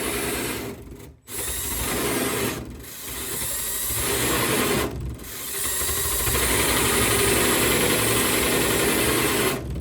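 A cordless power drill whirs continuously with a strained, grinding mechanical tone as its battery dies, cutting out briefly a few times before running on unevenly.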